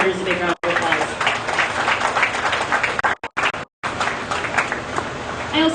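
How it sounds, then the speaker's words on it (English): Crowd applause at a Central New York youth cattle show, honoring young heifer and cow exhibitors, filling the ring with steady broadband clapping interrupted by a few abrupt brief gaps near the end. "let's give all the exhibitors a big round of applause"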